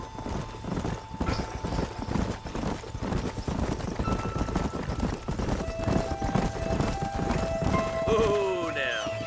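Horse hooves clip-clop steadily through a busy Red Dead Redemption soundscape, with a whinny and bits of talk mixed in over a constant background bed.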